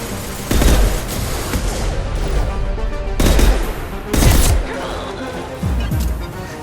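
Mass Effect 2 combat gunfire in loud repeated bursts of automatic weapon fire and booming impacts, several heavy volleys spread across the stretch, with shouted battle voices mixed under the shooting.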